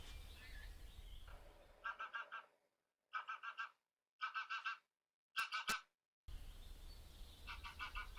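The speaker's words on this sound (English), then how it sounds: "Flock of about 100 geese just flying overhead just now." A large flock of about a hundred geese passing overhead, heard as bursts of repeated honking calls in clustered pulses, distant and moderately faint outdoors, with gaps of near silence between groups.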